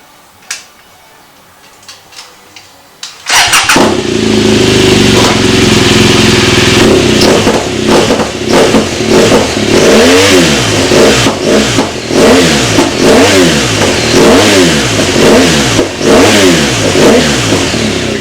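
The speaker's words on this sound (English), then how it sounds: "BMW R1200gs LC liquid cool version with a Beowulf titanium end cam" A BMW R1200GS LC liquid-cooled motorcycle fitted with a Beowulf titanium exhaust end can: a few faint clicks, then the engine fires up loud and close and idles before a series of rhythmic revs rising and falling.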